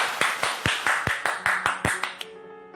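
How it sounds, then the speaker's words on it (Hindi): An audience welcomes a poet at a Hindi poetry gathering with clapping. Individual claps come in a brisk, uneven rhythm, close and clear, then a brief tone takes over as the applause ends. "जोरदार तालियों के साथ आप उनका स्वागत करें"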